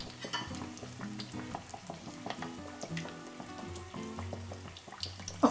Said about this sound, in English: using a fork, gently lower the fish into the hot oil